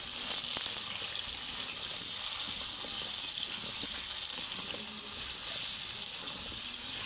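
Chicken and potatoes seasoned with turmeric and salt sizzle steadily in a pan while being stirred, a continuous close frying hiss with faint scrapes and no voices.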